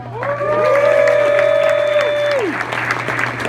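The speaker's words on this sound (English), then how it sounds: "we're going to give them a round of applause" A crowd at a 2018 junior disc golf championship applauds the youngest competitor, a five-year-old, with clapping, a long rising whoop and cheering voices, fairly close and loud, tapering off after a few seconds.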